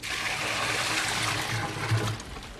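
Water pouring down through a leaking roof, a steady broadband splashing trickle that runs continuously and fairly close throughout, with no talk over it.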